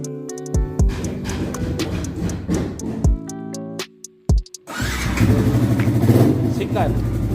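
A Yamaha R15 V2 motorcycle engine cranks and catches after short clicks and pauses, then settles into a loud, steady idle nearby, with people talking over the start.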